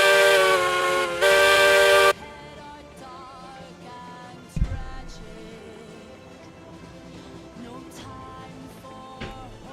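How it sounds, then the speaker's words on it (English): A steam locomotive whistle in a railroad simulator game sounds in two loud, sustained blasts at the start, then cuts off, leaving a faint mechanical background with a brief thump midway. "the new whistle sounds, you know, loop very poorly"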